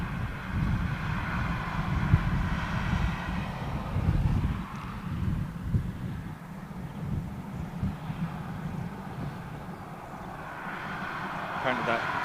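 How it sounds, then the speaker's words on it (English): A Chinook helicopter passes over RAF Fairford with a low, broad rotor rumble that fades gradually, under wind noise and steady conversation. "that Chinook aircraft taking a very odd route, Gilly."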